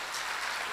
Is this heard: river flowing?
no